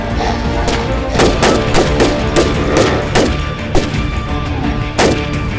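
Gunfire in the video game Warz Alpha, a rapid series of loud sharp shots and thuds in irregular bursts, close and punchy throughout.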